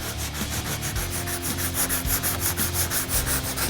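Car body filler, fully cured, being sanded with 80 grit sandpaper during small dent repair: a close, continuous scratchy rubbing in quick back-and-forth strokes, alone without voices.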